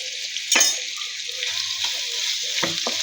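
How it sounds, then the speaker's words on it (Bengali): Chopped onion with bay leaf frying in hot oil for Bengali egg curry, a loud steady sizzle with a few clinks and stirring scrapes of a spatula in the pan. "পেঁয়াজটা ভেজে নিব।"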